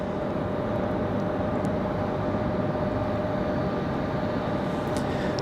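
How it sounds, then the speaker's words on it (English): A JetBlue Airbus A220-300 airliner near Raleigh-Durham International airport, a loud continuous broadband engine roar with a steady tonal hum, holding even and close for the whole stretch with no voices. "Good looking shot of the JetBlue from Boston. Again, an A220 300."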